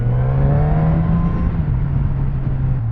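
Suzuki GSX-S 1000F motorcycle engine pulling hard under acceleration, a loud, close, sustained droning tone with a slight rise in pitch, heard alone without talk.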